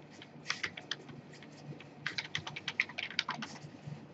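Fingers type on a computer keyboard in quick bursts of crisp clicks, with a short pause before a second dense flurry of keystrokes, heard close up with no talking.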